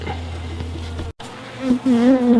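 Honeybees buzz around a nuc hive, with a steady close insect drone that drops out for a moment, then returns with higher, louder whining buzzes as individual bees fly near.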